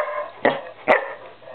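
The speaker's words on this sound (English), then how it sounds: "It's the most you've ever barked." Two sharp dog barks, about half a second apart, close by, with quieter background noise between them.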